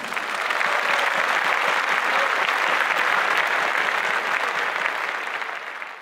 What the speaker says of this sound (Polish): Wielkie brawa dla naszej artystki.